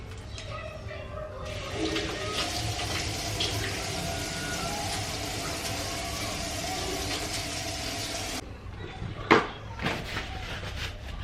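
Tap water runs into a sink while hands are rinsed off, a steady close splash for several seconds that then stops, followed by a few clatters.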